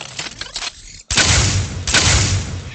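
Gunfire in an Unreal Engine 4 game: a burst of rapid shots, then a brief silence, then loud sustained booming blasts close up, with no voices.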